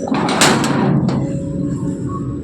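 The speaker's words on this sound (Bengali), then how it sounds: "এদিকে দরজাটা খুলে দিই" A house door is opened in the morning, making a short scraping, sliding rush followed by a sharp click, then a quiet room.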